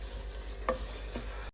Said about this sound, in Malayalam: ഫസ്റ്റ് നമ്മൾ അരി ഇട്ടൊന്ന് ജസ്റ്റ് വറുത്തിട്ട് വേണം വെള്ളം ഒഴിച്ചിട്ട് പിന്നെ ഒന്ന് തിളപ്പിക്കാൻ